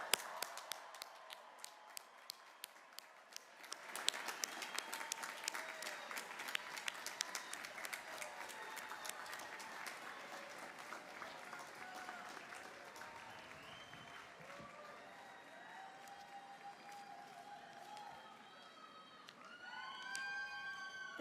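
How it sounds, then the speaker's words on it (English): A large audience at a college commencement ceremony applauds steadily for a long stretch, dense clapping filling the space, with some faint voices and whoops mixed in near the end. "Please join me in congratulating Bowdoin's newest graduates with a round of applause."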